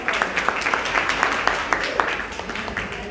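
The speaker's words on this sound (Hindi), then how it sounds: "तो सबसे पहले तो आप सब अपने लिए एक बड़ी जोर से ताली बजाइए" A crowd at a Savitribai Phule birth anniversary gathering claps in a steady, lively patter of many hands, with a few louder individual claps standing out over the mass for a few seconds.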